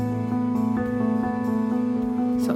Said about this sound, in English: a beautiful wiggling in the guitars while this is all going on